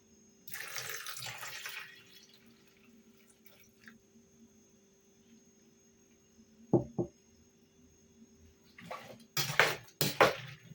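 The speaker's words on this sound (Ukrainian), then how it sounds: "Додаю 500 мл води." Water splashes and pours into a pot in a few short bursts, with a steadier stream near the start and quick splashes toward the end, close by.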